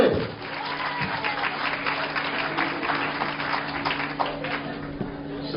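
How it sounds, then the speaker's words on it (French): An audience at an evening hilloula gathering in Lyon applauds warmly, a sustained wash of clapping from a hall full of people over a low steady hum, lasting several seconds without a break. "Applaudissements, s'il vous plaît."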